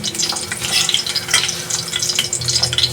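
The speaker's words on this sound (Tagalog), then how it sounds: "papalitan ko ng mantika para prituhin ko naman yung isda" Fish frying in fresh cooking oil in a pan after ham has been cooked, a steady dense sizzle and crackle with small spitting pops throughout, close and fairly loud with no talking.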